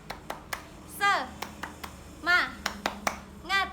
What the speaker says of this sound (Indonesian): Mari kita tepuk semangat dulu yuk.